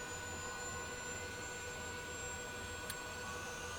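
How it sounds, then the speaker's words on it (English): Transall C160 auxiliary power unit spinning up: a faint, steady turbine whine and rushing hum with a thin high tone, plus one brief click near the end. "And we are going to start the APU."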